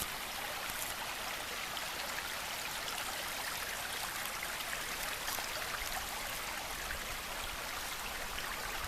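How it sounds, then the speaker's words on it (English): A small mountain creek runs at its headwaters in Shenandoah National Park at about 2,500 feet elevation, producing a constant, even rush of flowing water that fills the whole stretch without pauses or voices. "these are the headwaters of some creek here"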